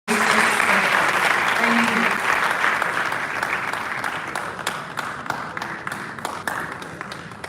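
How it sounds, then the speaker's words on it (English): Audience at an Africa development conference applauding the panelists and moderator after a discussion, a loud, sustained round of clapping that starts abruptly and slowly thins out, with sharp individual claps standing out toward the end. "So let's give them a round of applause"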